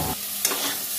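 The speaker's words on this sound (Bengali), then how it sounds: "বেগুনটা ভালো করে ভেজে নেব।" Eggplant fries in a pan with salt and turmeric, giving a brief, close sizzle with a quick stirring scrape.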